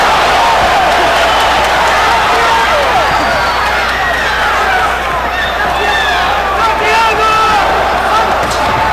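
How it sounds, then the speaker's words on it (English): Large crowd roaring and cheering in a boxing arena at a Mayweather vs. Sosa bout, a dense steady wash of voices with whistles and shouts rising above it throughout. "There's a lot of cheering and excitement in the arena"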